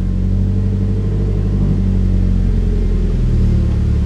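A car with a freshly swapped engine rumbles loudly and steadily up close as it drives and revs, its deep tone rising slightly toward the end.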